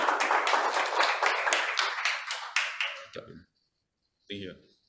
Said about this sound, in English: can we give a big round of applause, ladies and gentlemen